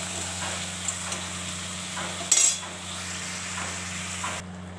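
Fish is dropped into a pan of well-fried spiced masala, giving a steady low sizzle with a brief louder splash and hiss as it goes in, then soft stirring scrapes; no talking.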